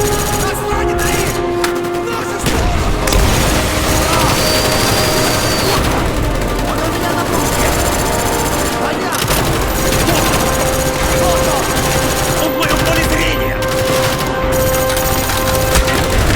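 In the Call of Duty Black Ops video game, dense gunfire and a grenade blast fill the scene loudly, with sustained rattling bursts and heavy booms while a voice shouts over the chaos.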